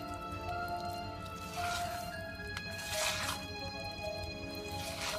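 Apple muffin batter being folded together in a bowl, soft wet squishing and sticky dripping sounds up close, with a faint steady hum in the background.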